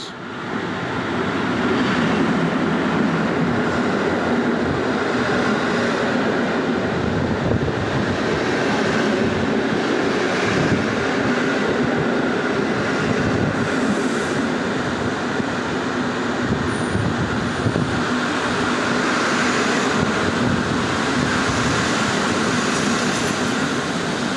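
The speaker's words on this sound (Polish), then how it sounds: "Wjeżdża opóźniony około 10 minut pociąg Intercity" An Intercity passenger train, running about ten minutes late, rolls steadily into Szczecin Główny station, a long continuous rumble of wheels on rails with occasional faint squeals and some wind buffeting.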